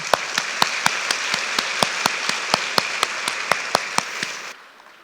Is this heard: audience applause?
yes